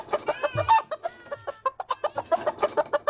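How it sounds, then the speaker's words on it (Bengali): Chickens in a coop cluck loudly and agitatedly, a rapid run of close, overlapping squawks and clucks with a hint of crowing, with no one speaking. "মুরগিগুলো বড়ই চিৎকার করছে"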